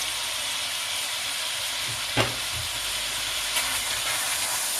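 Spicy Korean beef stir-fries with sesame seeds in a hot pan, giving a steady, loud sizzling hiss with a couple of brief clatters from stirring, and no talking.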